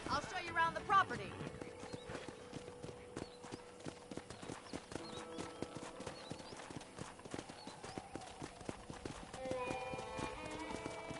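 Steady clip-clop of horse hooves at a walking pace in Red Dead Redemption, mixed with ambient background music and occasional voice sounds, fairly even in loudness throughout.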